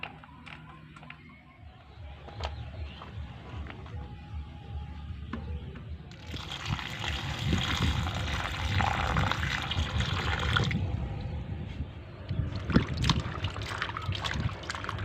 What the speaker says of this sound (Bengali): কুমড়োগুলোকে পরিষ্কার জলে খুব সুন্দর করে ধুয়ে তুলে নিচ্ছি।